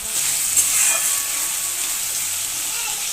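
Ginger garlic paste sizzles in a hot pan for fish curry, a steady loud frying hiss with a brief splutter near the start.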